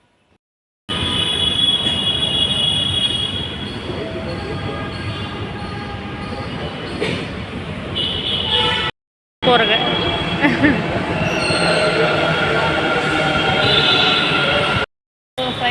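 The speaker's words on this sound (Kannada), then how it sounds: "ಫೈನಲಿ ನಾವು ಮೆಟ್ರೋಗೆ ಬಂದು ಕೂತಿದ್ದೀವಿ." A metro train runs at speed, its carriage rumbling and its wheels squealing steadily while a passenger on board speaks briefly. The noise cuts out for a moment twice.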